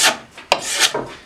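A sharpened hand scraper shaves rough wood stock in three short, dry rasping strokes close to the microphone, each a quick scrape with brief gaps between.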